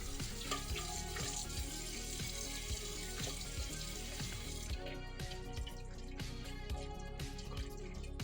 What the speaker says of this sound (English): Afterwards, simply rinse the kettle with clean water.